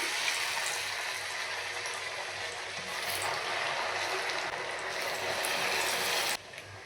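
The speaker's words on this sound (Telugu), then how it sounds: "ఇలా మీడియంలో మీడియం ఫ్లేమ్లో పెట్టేసుకొని ఫ్రై చేసేసుకోండి" Semiya cheese cutlets frying in hot oil over a medium flame, a steady dense sizzle and bubbling that runs continuously and close, then drops slightly near the end.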